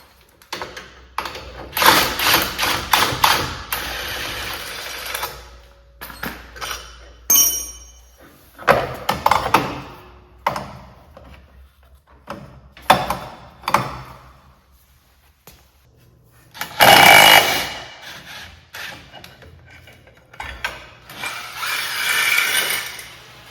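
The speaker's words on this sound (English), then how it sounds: "With that tool, those clutches popped right off." A tool knocking clutches off a race car engine during teardown in a garage gives sharp metallic bangs and clattering bursts, in irregular clusters separated by quieter gaps, with one louder, heavier impact burst partway through.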